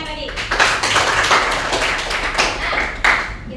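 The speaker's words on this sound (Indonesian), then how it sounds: "Oke, tepuk tangan untuk teman kita yang tadi." Students clapping for a classmate in a school lesson, a quick scattered round of hand claps with sharp individual hits, close by, lasting a few seconds with a voice briefly heard.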